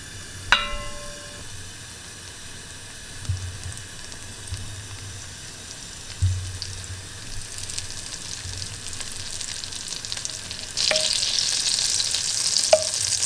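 Butter melting in a pan for a traditional beef broth pilaf gives a steady low sizzle with a few clinks at the start, then the frying hiss swells louder toward the end, with no voices.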